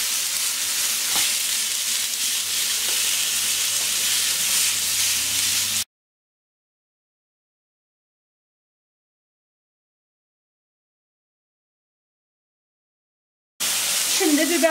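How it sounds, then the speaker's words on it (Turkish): Minced meat sizzles and hisses steadily in a hot frying pan, set beside sautéed vegetables for a celery dish. The frying is close and continuous, then cuts to silence for several seconds before the sizzle returns. "onları tavanın kenarı kısmına çektim ve kıymayı kavuracağım şurada bir kenarda da"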